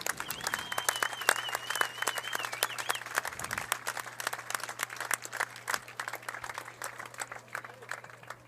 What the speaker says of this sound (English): Please give a round of applause for Braden and his family